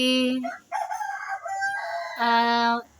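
A rooster crows loudly and close in a sound-effect style, with several strained, harmonic-rich crowing phrases rising and falling over about three seconds.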